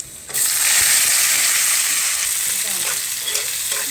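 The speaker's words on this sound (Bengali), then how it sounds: "এটা ভালো করে ব্রাউন করে ভেজে নেব।" Onion and garlic frying in oil for beef nihari, a loud, dense, steady sizzle that bursts in suddenly and holds close throughout with faint stirring beneath.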